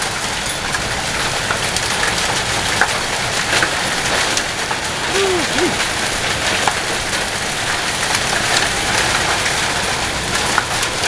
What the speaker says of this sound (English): Now it looks like just really heavy rain.